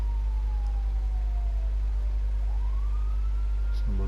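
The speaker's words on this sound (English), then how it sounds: "Actually, I can hear some sirens in the distance." Distant ambulance siren in the video game GTA V, a faint wailing tone that slowly falls and then rises again, drifting over a steady low rumble of the driving in the desert.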